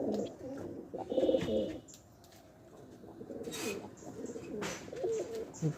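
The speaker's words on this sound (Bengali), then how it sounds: "প্রথমে আমি আমার রেড চেকার কবুতরগুলোকে ভরবো" Red checker pigeons coo in low, rolling bursts while being loaded into a box, with handling rustles and thumps around them; the cooing comes and goes at moderate level across the stretch.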